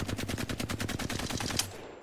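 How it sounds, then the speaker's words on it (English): A Flatline rifle in Apex Legends fires a rapid, evenly spaced burst of about fifteen automatic shots, fairly quiet and crisp, ending with a sharp final crack and a short fade. "Now I'm gonna shoot here, and you're gonna see the recoil pattern"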